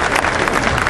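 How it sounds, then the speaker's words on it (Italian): Audience applause of encouragement at the opening of a local election campaign event in Italy, a short burst of dense, loud clapping from a crowd. "dai, un applauso di incoraggiamento."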